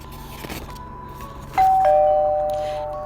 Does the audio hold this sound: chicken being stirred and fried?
no